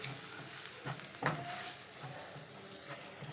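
Chili, coriander and turmeric powders being sautéed in a pan for a fish curry, a soft steady sizzle with a couple of stirring scrapes, quiet and close with no talk.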